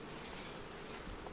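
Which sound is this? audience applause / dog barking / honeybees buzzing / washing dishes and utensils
honeybees buzzing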